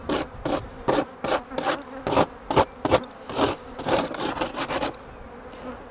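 Old beehive frame comb damaged by wax moth is broken down by hand in a series of about a dozen quick, rhythmic scraping and crumbling strokes, fairly close, with bees buzzing around and no talking.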